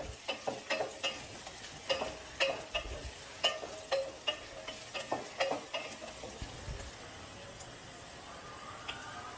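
Mushrooms and potatoes stirred in a pan over a low flame, soft sizzling under a series of light ticking scrapes and taps from the spoon.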